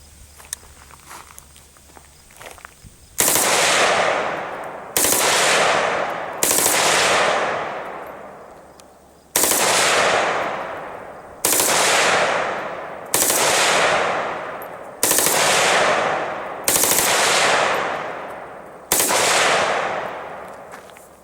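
A VZ-58 rifle fires on full auto outdoors, producing about eight loud, sharp bursts at irregular intervals, each with a ringing, decaying echo and short quiet gaps between.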